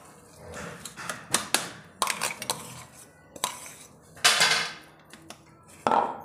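Ground pea paste scraped and tapped into a dish, with a series of sharp utensil clinks and scrapes against metal coming in irregular bursts, close by with no talking.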